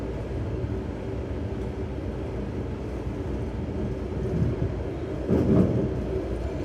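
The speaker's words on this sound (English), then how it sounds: "Considering this is a sort of suburban local train" Steady low rumble of a moving suburban local train heard from inside a carriage in the Fort Worth–Dallas area, with a brief louder rattle near the end and no talking.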